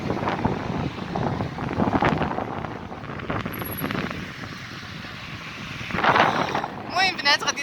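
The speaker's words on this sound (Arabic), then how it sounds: "كاين شويه ديال الشرقي." Strong easterly wind at the seaside in Tangier, gusting and buffeting the microphone in uneven bursts, with someone talking over it and some surf-like roar in the background.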